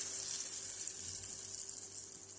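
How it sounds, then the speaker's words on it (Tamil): Hot tempering for amaranth greens keerai kulambu sizzles faintly as it is poured in, a soft, continuous crackling hiss with no voices. "தாளித்து கீரையில் போட்டுக்கோங்க."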